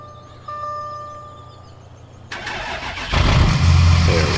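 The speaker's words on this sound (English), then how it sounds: "Alright, we gotta start the engine." A Chevy Silverado pickup's engine starts in Farming Simulator 17, with a sudden starter crank followed by the engine catching and settling into a loud, steady idle, heard alone with no talking.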